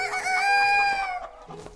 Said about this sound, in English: why did you crow just now?